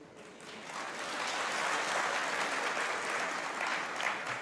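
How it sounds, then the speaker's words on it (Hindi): An audience at a Diwali spiritual talk breaks into sustained applause, a dense, steady wash of many clapping hands that swells slightly and holds without speech. "अब आप लोगों ने ये तालियां क्यों बजाई हो मुझे बताएं।"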